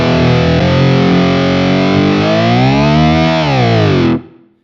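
Distorted electric guitar through a Fractal whammy pitch-shift effect: a loud sustained chord bends smoothly upward, then glides back down before cutting off abruptly near the end.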